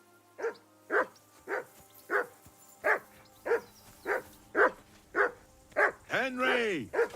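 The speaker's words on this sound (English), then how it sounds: "I assume you can hear that damn dog of yours barking." A dog barks repeatedly in the video game Kingdom Come Deliverance 2, about a dozen evenly spaced barks, fairly close, ending in a drawn-out whining howl.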